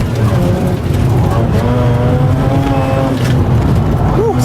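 Mazda RX-8 race car with a 240-horsepower rotary engine accelerating hard on a circuit, a loud continuous engine drone heard from inside the cabin, with rising tones as it pulls through the gears.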